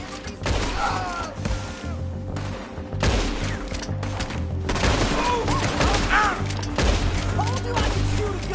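Rapid, dense gunfire from a shootout in Red Dead Redemption 2, with repeated close shots and heavy booming impacts running nearly continuously, while voices shout faintly underneath.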